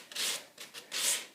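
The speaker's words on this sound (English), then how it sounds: "I'm going to take the sanding block and I'm going to just take the edges right back here" A sanding block rubs along the painted edges of a wooden piece to distress the finish, giving three or four close, raspy back-and-forth strokes with short pauses between them.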